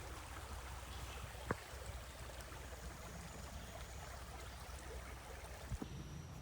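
Creek water flows steadily beside a hiking trail in Cades Cove, a wide creek a few feet deep, giving a soft continuous rushing wash with a couple of brief clicks, fairly close and alone.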